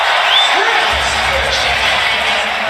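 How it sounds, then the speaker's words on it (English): Basketball arena crowd at a Golden State vs Pistons NBA game cheering and whooping in a steady, loud roar for under three seconds, with no clear talk over it. "The crowd loving it."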